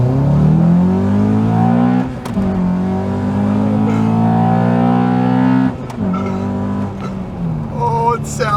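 Honda Accord Type S engine revving hard from inside the car, with loud rising and falling engine tones over several seconds and a brief shift-like dip midway.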